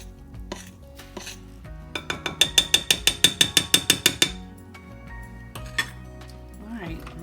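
A utensil rapidly whisks eggs into cake batter in a bowl, a quick run of about fourteen even, clinking strokes against the bowl, close, with soft kitchen handling sounds before and after.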